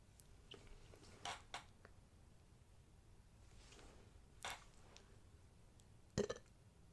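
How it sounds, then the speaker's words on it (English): A single short burp from a man close to the microphone, standing out from a few other brief mouth noises against a quiet room. "I just burped."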